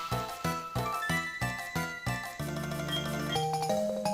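Bright chiming bell tones from the Tidal Bell in Pokemon SoulSilver ring in a steady repeating pattern, then settle into sustained, shimmering notes, with no voices present.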